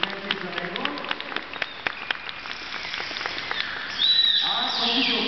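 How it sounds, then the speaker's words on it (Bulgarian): Scattered audience applause with individual sharp claps rises from the stands at the Varna dolphinarium show, then gives way to a louder wash of crowd noise and a high whistle-like tone toward the end. "Аплодисменти за него."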